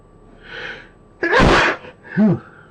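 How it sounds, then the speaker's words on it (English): Two loud, close sneezes in quick succession, preceded by a soft sharp intake of breath. "More sneezing."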